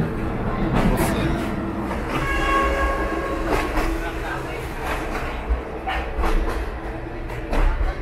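Rumbling passenger train ride in Cambodia on the route to Kep, with continuous rolling rail noise, rhythmic clacks and a sustained horn blast, while people talk nearby.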